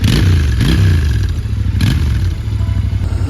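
A Royal Enfield Interceptor 650 motorcycle revs up close, the engine note swelling and dropping in a couple of throttle bursts over a steady low rumble, with some mechanical clatter.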